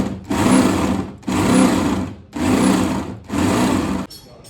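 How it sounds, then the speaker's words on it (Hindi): Power drill whirring in four even bursts, each about a second long with short pauses between, loud and close, as a hole is enlarged for fitting a car clutch cylinder near the clutch pedal. "जहां पे हमने क्लच पैडल लगाया था, भट्ट साहब वहीं पे सुराख को बड़ा कर रहे हैं"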